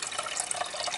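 Liquid splashes steadily as it is poured into a container for a hot ice experiment, a continuous close trickle and patter with no voices.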